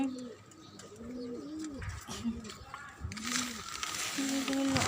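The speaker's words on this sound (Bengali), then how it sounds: "কবুতর আছে" Pigeons coo repeatedly on a rooftop garden, a rolling series of soft, throaty calls close by. Faint talk and background noise build toward the end.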